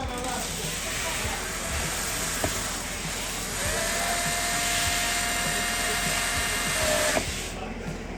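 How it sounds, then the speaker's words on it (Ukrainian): A power screwdriver drives a self-tapping screw beside an umbrella anchor, with a steady motor whine lasting a few seconds and a couple of sharp clicks over background noise. "монтуємо звичайний самонаріз поряд з самим анкером"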